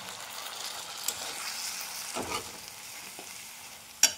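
Bora curry with ground spices and a splash of water sautéing in a pan, a soft steady sizzle with a few stirring scrapes and a sharp clink near the end.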